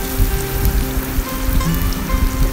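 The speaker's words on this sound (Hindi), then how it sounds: "अब हम इसको अच्छे तरीके से भून लेंगे।" Ginger garlic paste frying in a pan for chicken korma, a dense, loud, continuous sizzle with crackling spatter close to the microphone and no talking.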